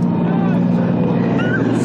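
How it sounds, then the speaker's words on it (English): A car engine running at sustained revs during a street outing, a continuous loud droning hum with steady tone throughout, up close. "Rev up your engine."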